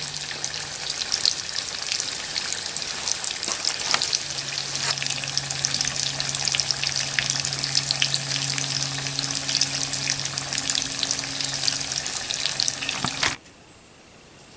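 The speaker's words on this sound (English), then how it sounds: "a nice little mess of food cooked on the Stanley Fry Pan" Food sizzles and fries steadily in a Stanley stainless fry pan, cooked outdoors as a shore lunch, with a continuous crackling hiss that stops abruptly near the end.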